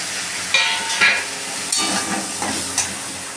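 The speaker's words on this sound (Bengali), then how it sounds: "আমরা এগুলো ভালো মতো কষিয়ে নিচ্ছি।" Tomato, cumin, coriander, turmeric and chilli powder, with ginger paste, being sautéed for aloo kopi khichuri, a close, steady sizzle and hiss broken by several scraping stirs.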